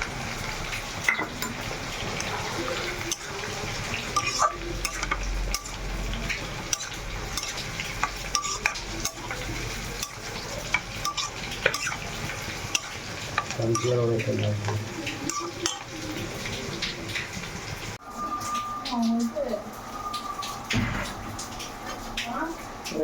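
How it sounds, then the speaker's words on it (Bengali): Tomato sauce mixed with a little vinegar is stirred into onions frying in a pan, a spoon scraping and clinking against the metal over a steady sizzle, with occasional brief talk in between. "পেঁয়াজটা সেদ্ধ হয়ে এসছে, একটু ভাজা ভাজা হয়ে, এবার সসটা দিয়ে দিলাম।"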